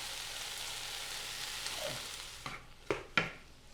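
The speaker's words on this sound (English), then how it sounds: "start to scrape the bottom of the pot to deglaze it" Scraping the bottom of a pot in a Ninja Possible Cooker Pro to deglaze the fond from beef tips into a sauce, a steady sizzle giving way to a few distinct scrapes near the end, close and moderately loud.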